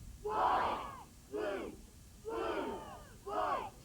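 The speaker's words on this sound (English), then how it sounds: "Good crowd response on this cheer, too." A college crowd at a 1988 UNC vs NCSU cheerleading performance yells along with a traditional cheer in four loud, rhythmic chanted bursts with short pauses between them.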